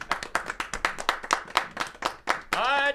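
A few people clapping in a radio studio, quick close claps in an uneven rhythm for a couple of seconds, followed by a voice speaking at the end.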